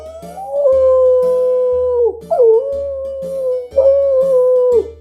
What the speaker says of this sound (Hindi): अरे लोमड़ी होंगे।